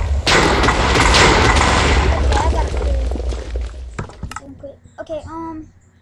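A regular TNT-mod bomb in Minecraft bursts into a loud, sustained booming roar that slowly fades, followed by a few scattered thuds, with a voice speaking afterward.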